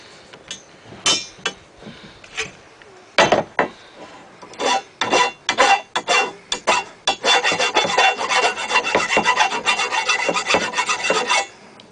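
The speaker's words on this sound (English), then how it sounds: "Now you'll definitely need your file to file off the little burrs." A hand file scraping burrs off a metal swing set tube, first in scattered short strokes, then a rapid run of close, loud, rasping back-and-forth strokes.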